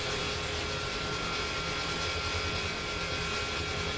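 Helicopter in the DCS flight simulator hover-taxiing toward a runway, giving a steady, loud, dense rotor and turbine roar that holds unchanged throughout with no voices.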